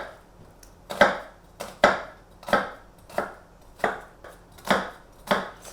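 A knife chops vegetables on a board in a steady rhythm of about ten sharp, close thuds, each ringing briefly before the next, with no talking.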